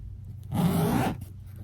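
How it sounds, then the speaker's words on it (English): A single quick pull of an invisible zipper, a brief raspy zip lasting about half a second, close and clear against a quiet room. "So this is actually an invisible zipper, which is hidden."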